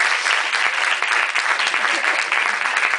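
A theatre audience at a play premiere gives loud, dense applause for the lighting and sound technicians, a continuous crackle of many hands filling the whole stretch without speech.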